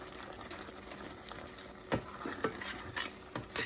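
A spoon scrapes and stirs through thick Chettinad kumayam batter in a pan, with soft irregular knocks against the sides over a faint steady sizzle. No one speaks.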